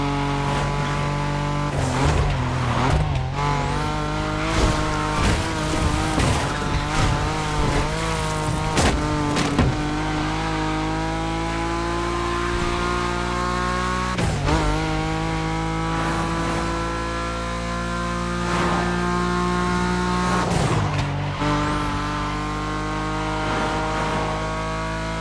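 A BMW M5 Drift Edition drifting on a track in The Crew Motorfest, its engine loud and held high, revving steadily with brief dips between slides and faint tyre squeal throughout.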